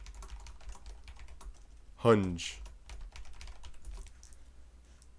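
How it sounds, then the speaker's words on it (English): Computer keyboard typing during a geometry lesson on triangle inequalities, a light scattered patter of keystrokes under a man's speech, with one louder brief bump partway through. "I'm going back and forth on what I'm typing"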